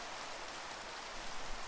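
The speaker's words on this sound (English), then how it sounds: "Rain's really bugging me." Steady rain falls in a Minecraft game world, a continuous soft hiss of drops on surfaces, even and moderately loud throughout with no voices.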